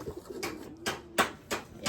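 Bursts of broadband rustling, like flapping wings, from racing pigeons sound nearby, with a faint low coo beneath them and no speech.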